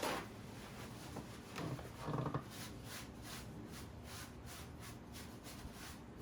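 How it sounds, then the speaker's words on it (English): Cloth wiping excess seasoning oil off a cast iron pan, a faint, steady series of soft rubbing strokes with a few slightly louder scrubs early on, no voices. "we have to wipe off the excess seasoning"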